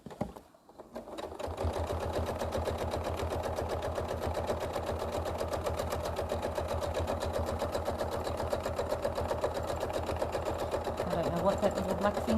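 A sewing machine quilting over appliqué stitches in a fast, even mechanical rhythm that runs continuously after a short start, close and fairly loud, with someone talking over it.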